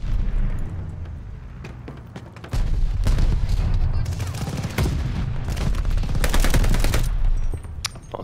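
Dense gunfire from the World War II shooter game Call of Duty: Vanguard, bursts of automatic rifle fire and booming shots rattling nearly nonstop and loud over a rumbling battle bed.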